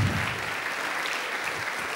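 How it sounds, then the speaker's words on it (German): An audience at a science slam applauds a volunteer, steady dense clapping that fills the room at an even level from start to finish. "Dann erstmal einen Applaus für die Katharin"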